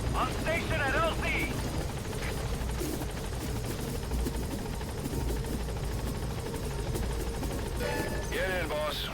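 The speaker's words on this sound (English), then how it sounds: "Support helicopter has arrived." Support helicopter arriving in Metal Gear Solid V: The Phantom Pain, a loud continuous rotor and engine roar with beating blades, while radio-style voices speak over it at the start and end.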